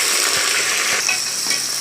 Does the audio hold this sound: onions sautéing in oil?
yes